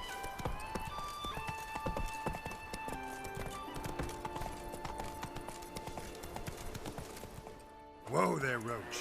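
Horse hooves clip-clopping in The Witcher 3: Wild Hunt, a steady trot under game music and voices, followed near the end by a loud horse whinny.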